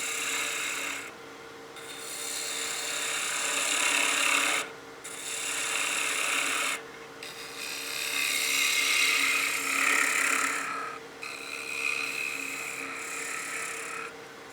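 A woodturning tool scrapes and rasps against the end grain of a wooden wine glass spinning on a lathe, in several steady cutting passes broken by brief pauses.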